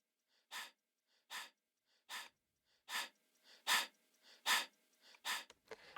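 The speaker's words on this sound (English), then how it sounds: "Right here, this is straight up, it's just hot breath." Sampled breath sounds used as a rhythmic element in a hip-hop beat: a series of short, close, airy exhalations landing in a regular pulse, roughly eight in a row and growing slightly louder, with silence between them.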